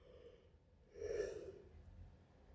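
A single faint, breathy yawn rises and fades in a quiet room, lasting about half a second.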